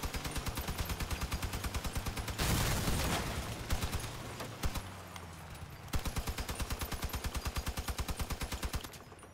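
Twin machine guns fire in the vehicle combat game Crossout as fast, steady bursts of rapid shots with a heavy blast partway through, loud and close, with no talk over them.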